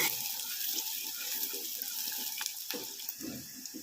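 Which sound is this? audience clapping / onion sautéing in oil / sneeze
onion sautéing in oil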